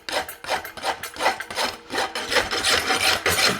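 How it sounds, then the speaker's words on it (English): A farrier's rasp files around the perimeter of a hand-forged hunter front horseshoe, in steady back-and-forth strokes of harsh, gritty scraping, close and fairly loud, with no voices. "I can just shape up the perimeter of the shoe with the rasp"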